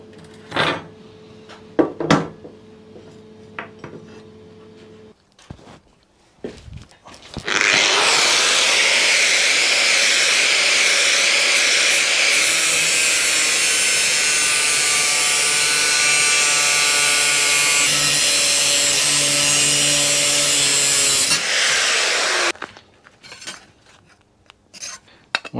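A power tool cuts 40mm strips for a Triumph America motorcycle rear light project. It gives one loud, continuous whining, rasping run of about fourteen seconds, with quieter clatter of handling before and after.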